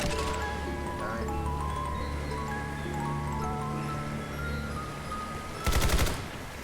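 An AK-47 fired in a zombies video game: a short, loud automatic burst near the end, after several seconds of steady game ambience and music with no talking.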